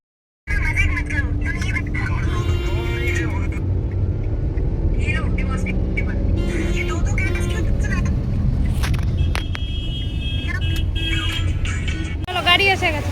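A car draws up on the road outside, its steady engine rumble continuous and fairly close, with a household voice talking over it.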